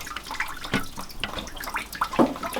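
Coolant water leaks and splashes from a failed homemade 3D-printed water inlet on a Porsche 924 S Turbo, an uneven close trickle with irregular drips and spatters.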